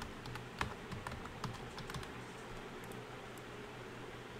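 Computer keyboard typing as a short word is entered, a run of quick, light key clicks over a steady background hum, close and fairly quiet with no talk.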